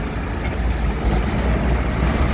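A Hyundai Mega Truck with a Euro 6 diesel engine roars steadily at high revs, a dense, loud, continuous low engine drone heard close by.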